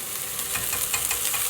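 Browned onions sizzle steadily in a pan for a cottage pie, a soft continuous hiss with faint stirring scrapes, no voices.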